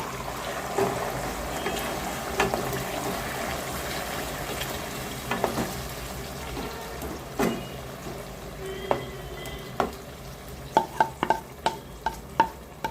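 Garlic and lemon pieces fry gently in oil for a no-vinegar lemon and gooseberry mixed pickle, with a soft sizzle under repeated spoon scrapes and clacks against the pan that grow sharper and more frequent toward the end.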